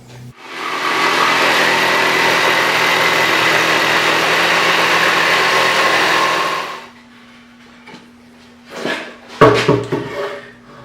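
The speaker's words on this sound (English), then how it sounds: "Once the glue is dry, then you can cut it into basically a paddle shape" A power saw cuts glued-up scrap wood into a paddle shape, a loud, steady buzzing drone lasting about six seconds before it stops, followed by a few scattered knocks and handling clatter.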